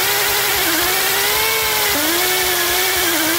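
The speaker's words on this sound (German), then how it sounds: "Jetzt zeige ich euch mal den Radnabenschleifer im Einsatz, wie der funktioniert." A compressed-air wheel hub grinder with 80 mm inner diameter runs continuously while cleaning a wheel hub, a loud, steady, high-pitched whine whose pitch dips and recovers under load.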